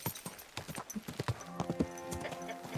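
Rhythmic clip-clop of horse hooves on a hard surface in the video game Kingdom Come: Deliverance II, steady and fairly close, with faint background sounds.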